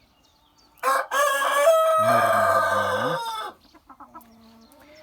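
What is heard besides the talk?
Minorca chickens clucking and crowing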